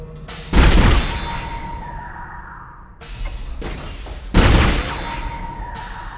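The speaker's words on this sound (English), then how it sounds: "I'm all over this important decision by practicing my shooting." Repeated gunshots in a shooting gallery minigame aboard a warship in Dead Space: several loud, sharp blasts in separate bursts, each followed by a booming decay and whooshing tail.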